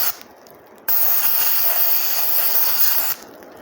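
A sandblaster sprays sand in a loud, steady hiss of air and grit for about two seconds, starting and stopping abruptly, with quieter background noise before and after.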